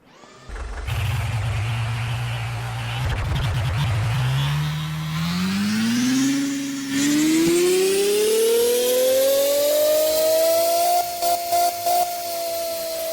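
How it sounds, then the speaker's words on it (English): Flat-12 boxer engine in a video game revving from a steady low idle up through a long, smoothly rising climb in pitch, loud and continuous with no talk. "It's a flat, oh my god, it's a boxer engine."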